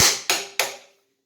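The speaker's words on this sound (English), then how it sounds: "Then hit it with a hammer." Three sharp hammer strikes land in quick, evenly spaced succession on a metal part of a Graco 650PC paint sprayer during a pump repack, each ringing briefly before fading.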